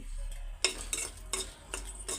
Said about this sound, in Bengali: মরিচ মাখার জন্য আমি এখন মরিচগুলি ভাইজা নিব।